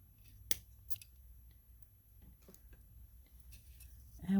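Jewelry wire is trimmed with cutters in a single sharp snip, followed by a few soft clicks and small handling noises in a quiet room.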